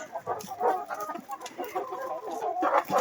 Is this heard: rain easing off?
no